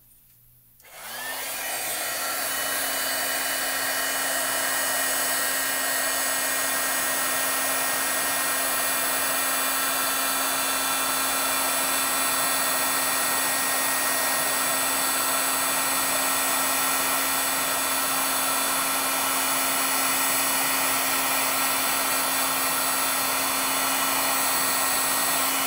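Heat embossing tool switches on after a brief quiet moment and blows steadily at close range, a loud continuous whirring hum with a fixed tone that holds unchanged while it melts clear embossing powder on layered stamping.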